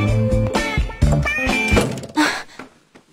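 A door slams shut in a dubbed TV drama scene: a sharp, heavy thud stands out among other indoor sounds, followed by a second fainter knock.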